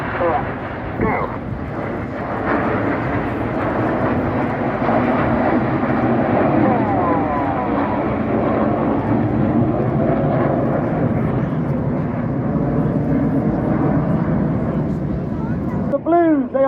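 A Typhoon jet flying over at the Blackpool Air Show, its loud, continuous engine roar sustained throughout with a strong rushing rumble and wind noise, briefly joined by a voice at the very end.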